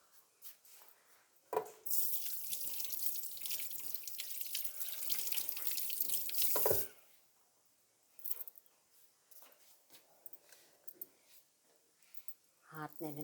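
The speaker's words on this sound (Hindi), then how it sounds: "हाथ मैंने धोया है" Running tap water pours steadily for about five seconds while hands are washed at a kitchen sink during fish fry preparation, then stops, followed by quieter clinks, handling sounds and a brief voice at the end.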